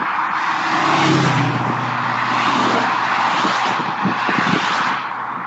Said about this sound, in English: there's about 6 or 7 of the cars coming up